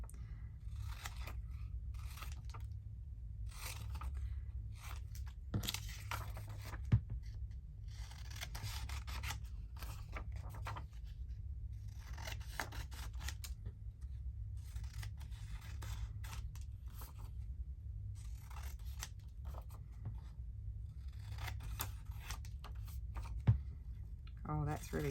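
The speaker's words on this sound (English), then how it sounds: "I'm just going to cut them all out" Scissors cutting out paper labels, intermittent snipping and paper rustling up close and faint over a low steady hum, with occasional talking.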